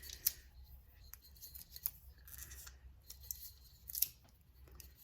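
Sublimation tape tugged and wrapped around a glass tumbler, giving a few sharp crackling pulls and peels over a low steady hum, close and fairly quiet with no talking.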